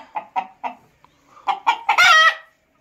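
Chickens cluck in three short close bursts, then a rooster crows loudly and nearby, its call rising and holding before cutting off.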